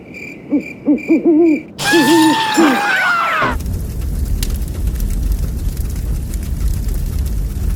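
A series of owl hoots in a video game, four or five rhythmic calls in quick succession, fairly loud and alone, followed by a rising screech and then a steady rumbling ambience.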